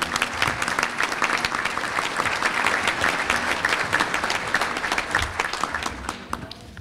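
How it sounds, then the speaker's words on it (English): Audience at a city State of the City address applauding steadily and loudly as a speaker comes to the podium, dense clapping throughout that tapers off at the end. "Let's give Brian and his staff a round of applause as he comes to the podium"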